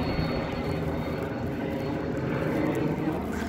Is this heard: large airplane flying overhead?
yes